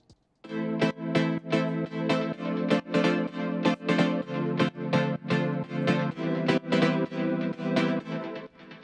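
Layered synth plucks forming the chorus of a song, EQ'd to sit apart: a steady, bright, loud rhythmic pattern of repeated plucked chords, without any voice.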